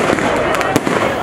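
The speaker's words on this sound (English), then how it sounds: "The fireworks blend magnificently together with joyous Christmas carols" Fireworks bursting at an outdoor Christmas light-up celebration, a few sharp loud pops and crackles over a dense, noisy crowd-like background, with voices present throughout.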